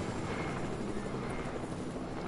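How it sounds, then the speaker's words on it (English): Steady, loud helicopter rotor and engine roar, dense and continuous throughout, heard in a live gaming event stream with no speech over it. "I can't hear you over this dumb, stupid helicopter"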